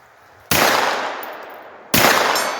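Two loud rifle shots fired at a 75-yard target in wet conditions, each a sharp sudden crack followed by a long ringing decay, about one and a half seconds apart.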